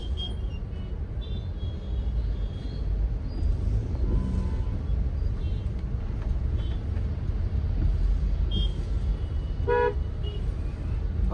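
Traffic on a potholed Mumbai road heard from inside a moving vehicle, a continuous low engine rumble with a few short car horn toots breaking through, one clear honk near the end, no talking.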